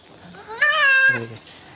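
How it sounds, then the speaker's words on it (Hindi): A Malvi goat of the Malwa breed gives one loud, close, drawn-out bleat lasting about half a second, a wavering nasal cry that drops at the end, with quiet surroundings. "ये मालवा की बकरी है, मालवी बकरी है ये।"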